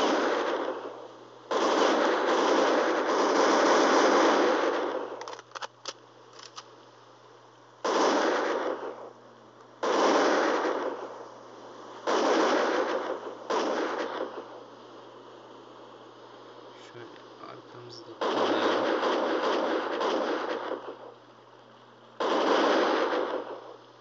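Bursts of automatic gunfire from the video game Critical Strike Portable, several long sustained volleys separated by short pauses and a few brief single shots, loud and dry against a faint steady hum.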